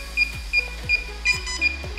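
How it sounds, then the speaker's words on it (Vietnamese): A DJI FPV Motion Controller pairing with its drone: a series of short, high electronic beeps repeats in a steady pattern, about five evenly spaced chirps, close and clear with no talking. "khi có tiếng kêu tít tít thì có nghĩa là hai thiết bị đã được kết nối"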